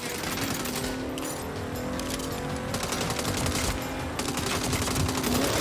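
Rapid automatic gunfire rattles through a Saints Row video game firefight, with dense bursts of shots in quick succession and a faint engine hum beneath, no voices heard.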